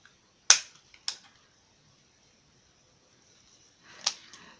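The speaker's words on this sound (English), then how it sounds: "then just cut with my scissors" A few sharp, brief snips of scissors against paper in near silence, two quick cuts close together and another after a pause.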